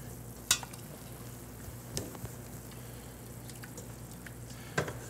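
A pancetta pasta sauce simmers quietly in a pan as its liquid cooks down, giving a faint steady sizzle with a few soft clinks and drips, with no voices over it.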